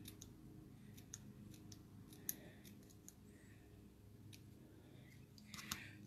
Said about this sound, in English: just take my scissors and snip